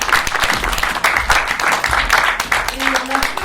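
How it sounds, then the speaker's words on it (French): A conference audience applauds Jean-Baptiste after a round-table talk, with dense, continuous clapping throughout and faint voices mixed in. "Je pense qu'on peut applaudir le Jean-Baptiste."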